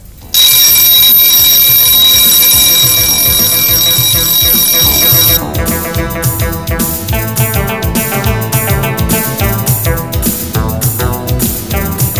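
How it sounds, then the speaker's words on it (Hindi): Loud electronic alarm clock rings in a steady, shrill continuous tone for about five seconds, then cuts off as busy background music with a rhythmic beat carries on, part of a Hindi comedy sketch scene. "मैं रोज सुबह 5 बजे उठ जाता हूँ अलार्म लगाकर"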